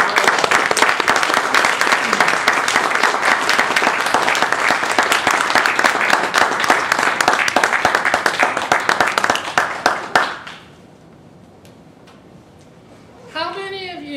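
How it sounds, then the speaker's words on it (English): A round of applause from the audience at a Toastmasters district division contest, steady dense clapping for about ten seconds before it abruptly stops, followed by near silence and then a voice speaking. "please, a round of applause."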